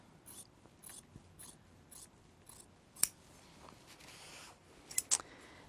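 Sewing scissors snip through a weak-fibered shirt fabric cut along the grain, giving a series of short, crisp blade closes in a quiet room, with a couple of sharper louder snips near the end.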